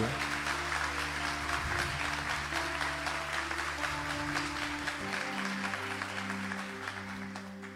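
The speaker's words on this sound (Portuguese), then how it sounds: "Vamos aplaudir esse Deus maravilhoso." Congregation at a Catholic Mass applauds together, a soft, even wash of clapping heard at a distance over a steady organ or keyboard drone that changes chord partway through.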